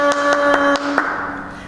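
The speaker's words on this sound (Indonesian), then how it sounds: "Tepuk tangan semuanya." Children at a church service clapping hands, several quick sharp claps in a short rhythmic burst, fairly close, with a sustained tone ringing underneath.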